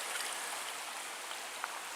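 A small, low-running stream at a trail crossing in Michigan's Porcupine Mountains gives a steady, close, hissing rush of water with faint trickles and no voices.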